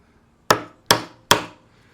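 A chisel is struck three times at even intervals while cutting a mortise hole in a wooden workbench, each crisp, sharp knock decaying quickly into silence.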